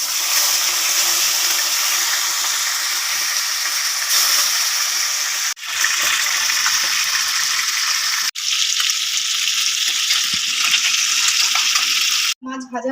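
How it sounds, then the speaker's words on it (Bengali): Pieces of rohu fish coated with salt and turmeric fry in hot oil with a loud, steady sizzling hiss. The sizzle drops out briefly twice and cuts off near the end. "মাছগুলোকে আগে ভালো করে ভেজে নেব।"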